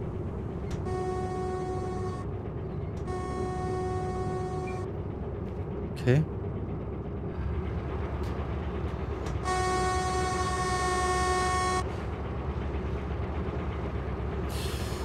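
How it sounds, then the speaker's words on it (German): Steam locomotive whistle in the train-driving game Derail Valley, sounding in three sustained blasts of a few seconds each over a steady rumbling engine, with someone speaking briefly in between. "Das ist die Pfeife."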